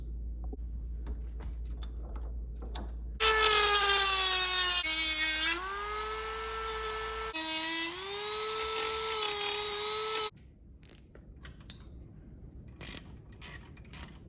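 A high-pitched power cutting tool whines through excess bolts on a motorcycle speedometer mount, two sustained close cuts with the pitch dipping under load, followed by clicks and handling noises.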